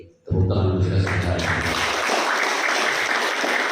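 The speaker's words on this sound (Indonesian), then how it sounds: "Tepuk tangan untuk kita semua." An audience at a religious community motivational event at ISBI Aceh breaks into sudden, loud applause. The dense clapping starts abruptly after a short pause and holds steady to the end.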